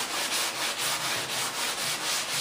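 Wood being sanded by hand, a close, steady rhythmic rasp of back-and-forth strokes, roughly four per second, with no voices.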